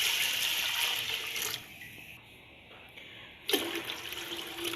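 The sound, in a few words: water poured into pressure cooker with lentils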